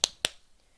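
Two sharp hand claps in quick succession, close and crisp, then quiet.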